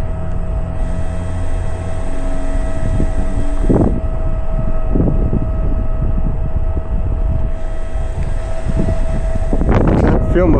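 A radio-controlled airplane with flaps deployed takes off, its motor droning steadily with wind buffeting the microphone and brief bursts of noise over the run.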